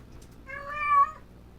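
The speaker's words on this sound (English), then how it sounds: "Can I get her to meow twice when we're going forward and 3 times when we're going backwards" In the train game Railroads Online, a cat's meow stands in for the locomotive sound. One clear, close, rising-and-falling meow lasts under a second over a low background hiss.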